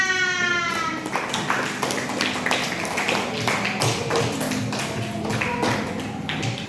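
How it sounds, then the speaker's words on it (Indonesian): Students in a classroom clap their hands together in a loud, close burst of sharp, rapid claps that tapers off slightly, with no talking over it. "Beri tepuk tangan"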